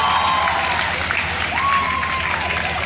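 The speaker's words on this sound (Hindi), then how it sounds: "उनके लिए तालियां हो जाए" A school audience claps loudly and steadily in a continuous wash of applause, with a few faint whistles and cheers mixed in.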